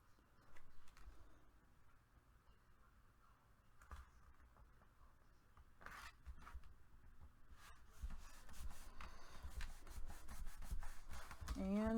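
Paper for a handmade heart mini album is burnished with steady close rubbing strokes that grow louder and denser toward the end, with faint bird chirps in the background.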